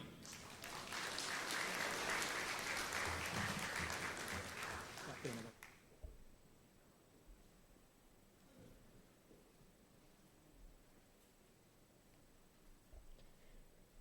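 Loud, sustained clapping from a lecture-meeting audience at Soka Gakkai Indonesia fills roughly the first six seconds, then cuts off abruptly to a quiet room with only faint small noises.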